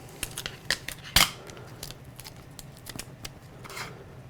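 Sticker or transfer tape peeling off a surface gives a run of close, crisp crackling rips with one louder tear partway through, alone without talk.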